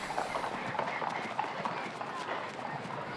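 Horse hooves clip-clopping at a CSI2* show jumping event, a steady run of quick hoofbeats close by, with people talking over the sound throughout.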